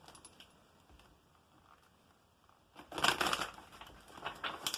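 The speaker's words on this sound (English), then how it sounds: "I'm going to see if I can shuffle." Tarot cards are shuffled by hand, a dense riffling and rustling burst that starts after a quiet stretch and continues in rough, uneven flurries, near and fairly loud.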